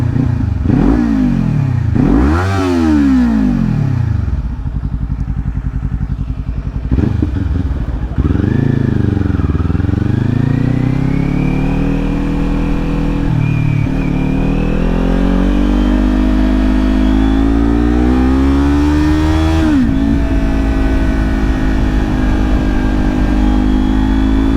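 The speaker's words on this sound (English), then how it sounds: "Listen to the sound of this exhaust" A 2022 Kawasaki Ninja 400 with an upgraded exhaust revs repeatedly, rising and falling in pitch, then settles into a loud, sustained rumbling drone close by.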